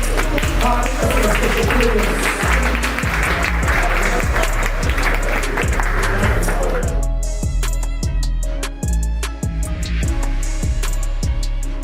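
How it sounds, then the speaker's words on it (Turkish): Applause at the opening of a Xiaomi concept store rises over a thumping, steady music beat, the clapping dense for the first several seconds before fading and leaving the rhythmic music to carry on. "Alkışlarla daha yüksek alkışlarla açıyoruz"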